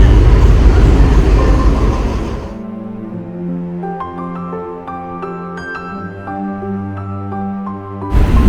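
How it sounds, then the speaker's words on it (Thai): A train pulls into a station in Thailand: a loud rumbling roar gives way to a steady, droning engine hum with layered tones, then a burst of noise returns at the end. "อันนี้รถไฟก็มาแล้วนะครับ"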